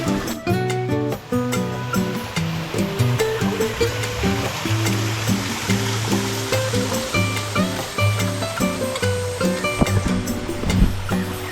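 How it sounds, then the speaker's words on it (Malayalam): Anakuzhi waterfall in Amboori, with water rushing and pouring over rocks in a steady, dense roar that runs throughout, partly overlaid by a tonal musical layer. "അപ്പോൾ ഇത്രയാണ് സംഭവം, ആനക്കുഴി വെള്ളച്ചാട്ടം"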